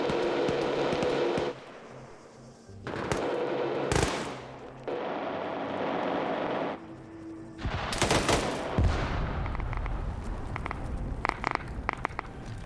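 Gunfire in a multiplayer military video game as a Huey helicopter strafes a headquarters: repeated loud bursts of automatic fire in separated volleys, with sharp cracks, a close impact and crackling debris, with no one speaking.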